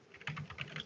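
Quick, soft keystrokes on a computer keyboard at a home desk setup, a brief run of light irregular clicks close to the microphone.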